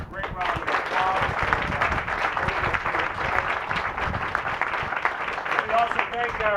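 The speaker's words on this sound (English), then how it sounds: "Give them another great round of applause." Audience applause at a public event with Virginia's governor in Gloucester, a steady wash of clapping from a crowd that holds at even loudness throughout, with voices mixed in.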